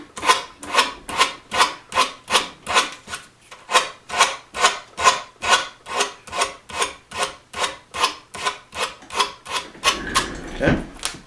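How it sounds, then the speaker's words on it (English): Sandpaper rubbed by hand along the square edges of a wooden bridge being made for a Martin D-35 guitar, a steady rhythmic rasp of about two dozen even back-and-forth strokes, close and clear with no talking. "So take a piece of sandpaper and strop the edges down."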